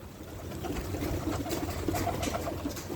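Hungry pigeons coo steadily at their coop, a close, continuous chorus of soft repeated calls with light background noise and no talk.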